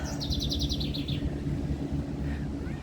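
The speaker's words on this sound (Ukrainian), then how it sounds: "Чути спів птахів." A bird sings a quick, bright run of repeated chirps over a low rumbling background on a summer morning near the confluence of the Neris and Nemunas rivers in Lithuania, then falls quiet as the rumble continues.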